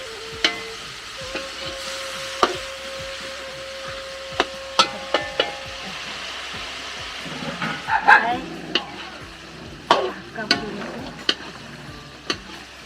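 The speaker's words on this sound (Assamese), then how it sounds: "মাংসখিনি ফ্ৰাই কৰা হয়।" Pork frying in a pan for a pork and greens curry, its fat rendering out, gives a soft steady sizzle broken by repeated clacks of stirring and a few louder scrapes near the end.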